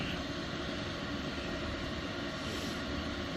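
A Chinese diesel heater runs loud and close, producing a steady broadband roar of rushing air like a jet engine, with no change in level and nobody speaking.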